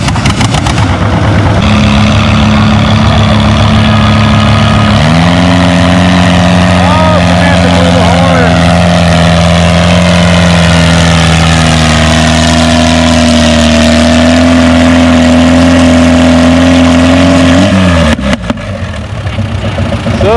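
A tractor engine roaring hard during a tractor pull, a loud sustained drone that steps up in pitch and holds as the throttle opens, then cuts off near the end, with an announcer's voice over it.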